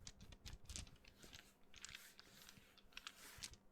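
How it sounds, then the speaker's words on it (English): Dice shift and click inside a fabric dice bag, making soft, irregular rattles and rustles close by and at low volume, with no voices. "I guess I could try messing around with my dice bag"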